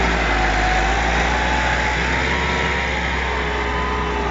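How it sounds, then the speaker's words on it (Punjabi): A Massey Ferguson 375 tractor works hard pulling a five-tine chisel plough through dry, hard farmland in Punjab, its engine drone steady and loud throughout with no voices. "ਟਰੈਕਟਰ ਦਾ ਇਸ ਟਾਈਮ ਫੁੱਲ ਜ਼ੋਰ ਲੱਗਣ ਡਿਆ ਵਾ ਕਿਉਂਕਿ ਜ਼ਮੀਨ ਸੁੱਕੀ ਆ।"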